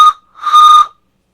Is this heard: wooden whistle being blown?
yes